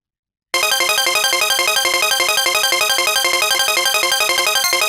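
A synthesizer plays a fast, evenly pulsing arpeggio pattern of minor triad chords, bright and loud, repeating steadily without any voices after a short silence at the start.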